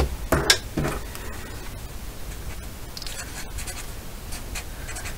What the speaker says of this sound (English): I'll go ahead and write that down real quick